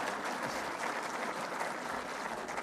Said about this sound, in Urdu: اب بتائیں کہ آپ کی تالی اس معاملے میں ٹھنڈی ہے